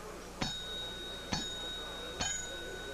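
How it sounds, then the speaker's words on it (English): A table service bell at an upscale restaurant is rung three times at roughly one-second intervals, each a sharp bright ding with a ringing tail, heard close and clear over a faint background. "you merely ring the bell"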